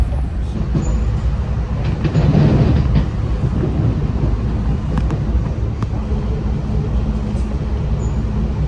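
SEPTA Silverliner IV commuter train riding the Trenton Line toward Philadelphia, heard from inside as a steady loud rumble of wheels and motors with faint clicks and rattles throughout.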